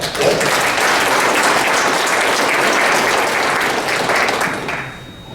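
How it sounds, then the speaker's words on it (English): Applause from an audience greeting a man honored for 25 years with a company, dense and steady clapping that fills the room before fading at the end. "Big round of applause."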